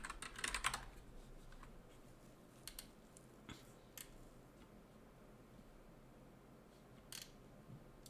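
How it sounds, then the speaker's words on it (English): Quiet typing on a computer keyboard at a desk, with scattered key taps and a brief quicker burst near the start, faint and close against a low room hum, no talking. "Let me just type it."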